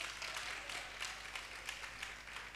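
An audience applauds after a face-off round at a church Bible quiz competition. Steady, dense clapping runs throughout at moderate distance, with no voices over it.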